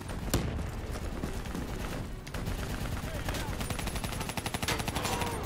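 Dense gunfire rattles continuously at an APC in the video game Call of Duty Black Ops 3, rapid overlapping shots with occasional heavier thumps, loud and close, mixed with game voices.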